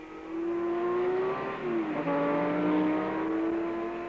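Ford GT40 race cars at the 1968 Le Mans race roar past with a sustained engine whine that dips and shifts in pitch mid-pass before climbing again, loud and fairly close.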